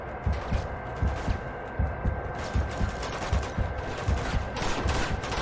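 Rapid in-game gunfire in Uncharted 2, during a monastery level, comes as a rhythmic run of thumping shots in quick clusters over a constant low hum.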